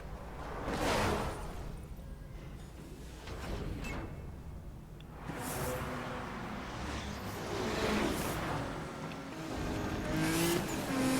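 Race cars in Need for Speed: Most Wanted (2012) roar through a night ring race in the game, engines rising and falling in repeated surges with hints of tire squeal, fairly loud and continuous with no talk.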